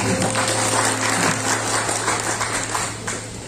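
Crowd applause for Dewi Koryati at a political gathering in Bengkulu, a steady wash of clapping from many hands over a few seconds, dense and fairly loud, easing slightly at the end over a faint electrical hum.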